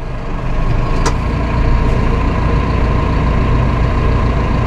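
A Massey Ferguson 5S.145 Deluxe tractor engine idles at 850 RPM, a loud, steady low diesel rumble with a faint whine, holding constant throughout with no speech.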